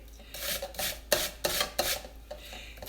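An onion is grated for a kicked-up Thousand Island dressing, making several rhythmic rasping strokes against the grater, close and fairly clear with short pauses between passes.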